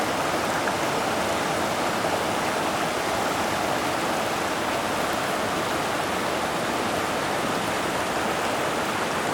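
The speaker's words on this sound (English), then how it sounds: "Getting my first look at Blue Canyon Creek now." Blue Canyon Creek in Blue Canyon, Blackcap Basin, rushes in a steady, dense broadband wash of flowing water, continuous and fairly close, with no voices.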